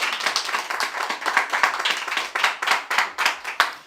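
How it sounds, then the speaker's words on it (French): Guests at a festive party meal clap together in steady, dense applause, close and lively, with no talk over it. "Nadège, je demande qu'on applaudisse pour elle"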